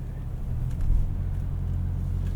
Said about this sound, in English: With that passenger window up, you don't hear any of that intake noise, but with it down, it does sound pretty cool.